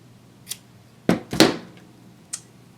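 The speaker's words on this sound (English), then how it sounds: "I dropped my scissors on the table" A pair of scissors drops onto a table during crochet work, giving two sharp, loud clattering bangs close together, framed by a few lighter clicks before and after.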